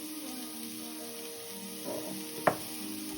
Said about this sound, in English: So these are all gonna saute together, these flavors.